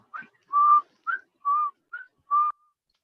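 A person whistles softly in imitation of a bird call, giving three paired notes: a short rising chirp followed by a longer steady tone, evenly spaced in quiet surroundings.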